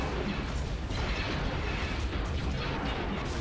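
Space fleets trade weapon fire in the Stellaris strategy game, a dense, continuous rumble of booming blasts and crackling bursts with no clear pauses.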